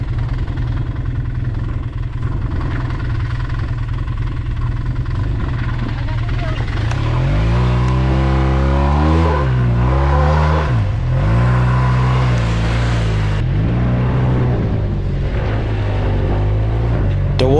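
An old 32-year-old Ski-doo snowmobile stuck in snow, its engine idling roughly then revving hard in rising and falling surges, loud and close, with people talking over it.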